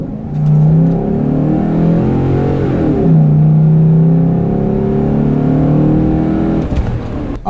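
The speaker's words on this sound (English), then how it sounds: "let's get this thing out there on the road and do an acceleration clip" A stock car accelerating hard on the road, engine revving up through gears in several rising sweeps with brief shift dips, loud and close throughout, no talking.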